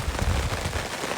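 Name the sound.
rain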